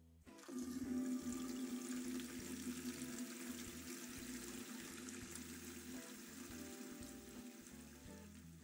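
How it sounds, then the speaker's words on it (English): Tap water runs steadily into a sink basin at a hand-washing station, with the flow regulated by a foot pedal beneath the sink. A continuous, fairly loud rushing stream with no voices. "Regulate the water flow using the foot pedal below the sink."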